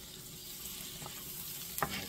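Steak frying in butter in a Le Creuset skillet, a steady soft sizzle with a couple of brief sharper crackles near the end.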